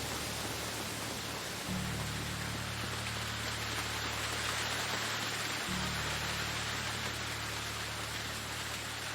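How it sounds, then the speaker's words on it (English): Steady rain pours in the medieval survival game Medieval Dynasty, a dense even hiss that fills the whole stretch at a constant level, with low ambient hum underneath and no voices. "Oh, please make the rain stop."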